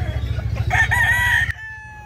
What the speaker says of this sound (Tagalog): yung mga dala na manok ni Kuya James